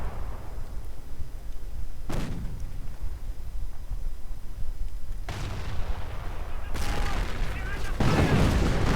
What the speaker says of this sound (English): More artillery, mortar rounds landing on the command squad.